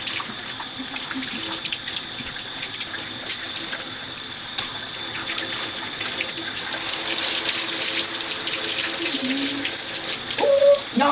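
Running water from a tap spills steadily over dyed locs during a rinse at a sink, a constant close hiss that stays alone with no talking.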